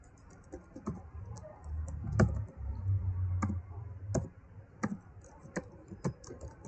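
Typing on a computer keyboard in sparse, irregular clicks and taps, close and clear, with a low background rumble and no talking.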